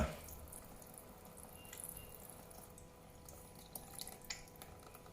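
Water trickles and drips into the sink of a child's toy kitchen during play washing, a faint, quiet splash with a few brief clicks and taps over soft room noise.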